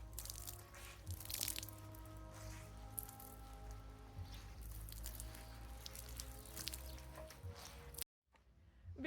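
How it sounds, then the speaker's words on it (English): Water is wrung from a wet T-shirt with soft squishing and trickling drips, fairly close and continuous. Splashes fall into the water below until the sound cuts out abruptly. "Now just squeeze the water."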